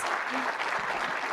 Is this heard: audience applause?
yes